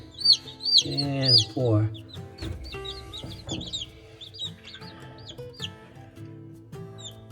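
Newly hatched baby chicks cheep in high, repeated peeps, close and fairly loud, mixed with a couple of louder calls and a person speaking briefly.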